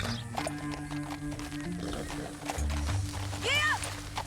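In Red Dead Redemption 2, horse hooves clip-clop on a trail under background music, with voices talking over it and a brief whinny near the end.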